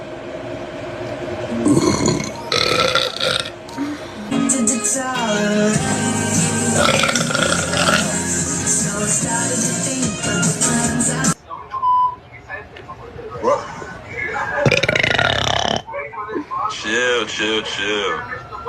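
Loud, repeated burps from a person on a TikTok live stream, coming in long drawn-out bursts close to the microphone, with whistling and chatter from others breaking in between them.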